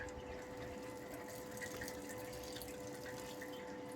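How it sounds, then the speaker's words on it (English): Faint steady rush and trickle of water pumping through the pipes of a hydroponic growing system, with a constant low hum beneath it and no voices. "you can see the water's pumping away"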